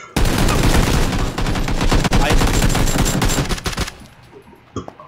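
Dense rapid gunfire in a shooter video game, loud bursts of overlapping automatic shots crackling continuously for about four seconds before cutting off, followed by a brief faint shot.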